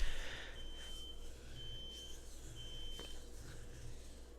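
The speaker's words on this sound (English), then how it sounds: "Someone's smoke alarm is going off next door." A smoke alarm next door sounds a faint, distant, high-pitched beep repeating at a steady interval over a quiet indoor room hum.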